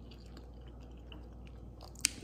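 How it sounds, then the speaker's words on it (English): A single crisp bite into a crispy-bottomed low-carb tortilla pizza with sauce and cheese, baked in a nonstick pan, heard as a quiet close crunch near the end over soft room noise. "So let me give it a taste."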